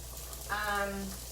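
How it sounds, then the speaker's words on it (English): Onions sauté in a pan for tzimmes, giving off a soft, steady sizzle close by. A brief voice sound rises over it midway. "So I'm going to be sauteing the onions"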